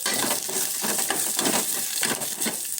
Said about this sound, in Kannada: ಇದೆಲ್ಲ ಚೆನ್ನಾಗಿ ಚೆನ್ನಾಗಿ ಹುರ್ಕೋಬೇಕು